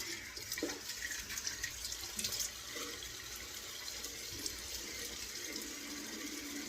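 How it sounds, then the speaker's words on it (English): Running water rinses off equipment in a steady, faint splashing and trickling stream, with soft clinks and handling sounds over it and no voices. "I'm gonna rinse, check everything."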